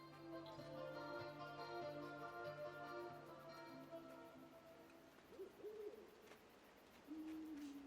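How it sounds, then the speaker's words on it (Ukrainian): Video game Endling owl hooting: a few quiet, rising tonal hoots later in the stretch, set against a constant droning forest ambience and faint background tones, no speech. "Не розбудити сову."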